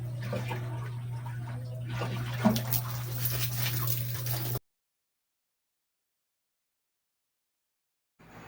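Water from a hose rushes steadily into a pet's water container for about four and a half seconds over a constant low hum, then cuts to near silence before faint sound returns at the end.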